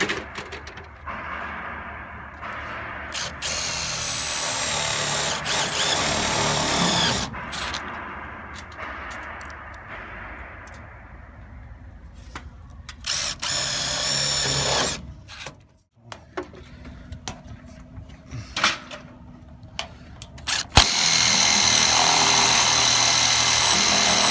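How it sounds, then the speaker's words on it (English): A power drill whirs in repeated bursts, speeding up and stopping as tech screws are driven into roof fascia, with short pauses and clicks between runs, close by. "be careful not to drill too much, otherwise the tech screw is just going to spin on you"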